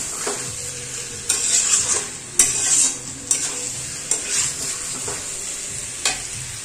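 Curry stirred and sizzling in hot oil in a pan, a steady bright frying hiss with sharp scrapes of the spoon recurring every second or so, close and alone with no voices.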